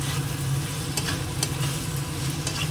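Raw mustard oil going into a mustard paste curry as it cooks, giving a steady close sizzle with a low rumble underneath and a few faint scrapes of stirring, with no voices.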